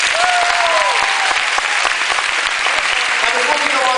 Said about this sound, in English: Give our volunteers one more thunderous round of applause.